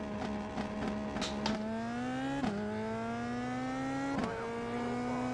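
A race car in iRacing at Phoenix Raceway accelerates hard, its engine whining upward through rising revs with a few quick gear changes, loud and close with no voices.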